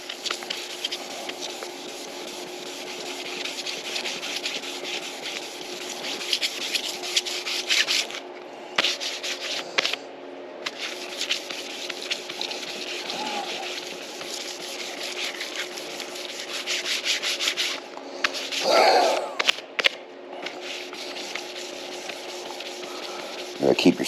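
A sanding block rubs back and forth over the body of a 2017 EZGO RXZ golf cart. The steady, close scraping strokes carry on almost without a break, with short pauses between passes.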